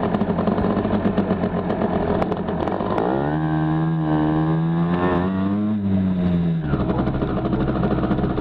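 Cars pass close by on a road, heard from a waiting moped: a loud engine hum rises and holds steady for a few seconds before fading back into the traffic rumble.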